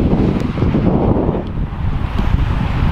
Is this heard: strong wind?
yes